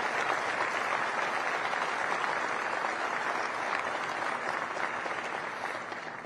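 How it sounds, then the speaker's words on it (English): Applause from a seated crowd at a U.S. Space Force change of command ceremony, a steady wash of clapping that holds for several seconds and thins slightly toward the end. "how about a round of applause for the Dickinson family, the Whiting family, and all of our military families."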